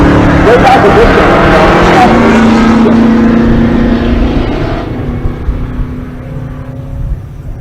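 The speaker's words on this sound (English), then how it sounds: "The Fox Mustang in the left lane, and the 6th Gen Camaro in the right lane." Fox-body Mustang with a supercharged modular engine and a sixth-generation Camaro drag racing side by side at a race-week event in Pueblo, Colorado; loud, roaring engines at full throttle gradually fade into the distance, with a sustained drone throughout.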